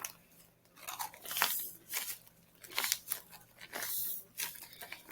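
Crunchy Smartfood popcorn squishy toy squeezed by hand: soft crinkly crunches in irregular bursts, close and quiet, with no talking.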